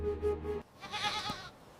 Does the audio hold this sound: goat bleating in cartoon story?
yes